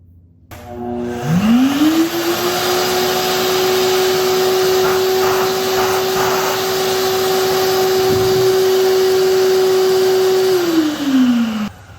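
Wall-mounted wet/dry vacuum from Giraffe Tools switches on, ramps up to a steady whine, holds for about nine seconds, then winds down, loud and close with no talking.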